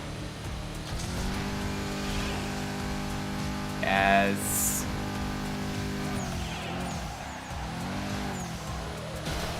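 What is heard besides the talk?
V8 muscle car engine revving in the video game Midnight Club LA Remix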